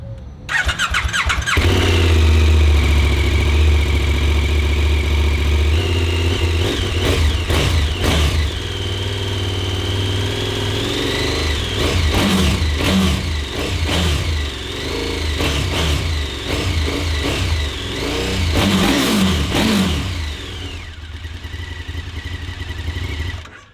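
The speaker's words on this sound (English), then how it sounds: "I'm gonna start them up and let's do a little bit of a rev battle." Loud close engines rev repeatedly on motorcycles, one fitted with an Akrapovic slip-on silencer and its decibel killer removed, with sharp throttle blips, rising squealing sweeps and rumbling idle between bursts.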